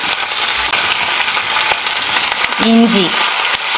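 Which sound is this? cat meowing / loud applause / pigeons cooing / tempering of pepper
tempering of pepper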